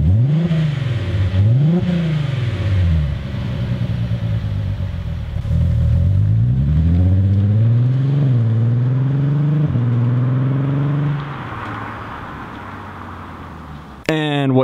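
Volkswagen Passat R36 with an aftermarket valved exhaust, valve closed, revved repeatedly: deep rising and falling engine surges in several close, loud pulls, then settling to a steady idle rumble.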